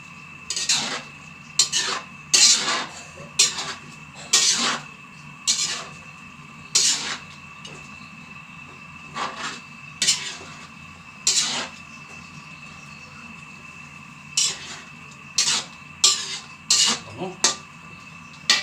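Chicken adobo simmering in coconut milk is stirred in a pot, giving repeated scraping and clinking strokes of a utensil against the metal in an irregular rhythm, close by over a low steady background hum.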